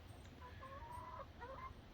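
Chickens in their pen give soft, faint clucks and short warbling calls, with steady low background noise and no voices.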